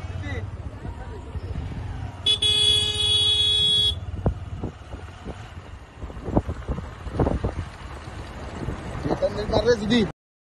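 A car runs with a low, steady engine rumble. A horn sounds for over a second, and voices talk over the engine noise.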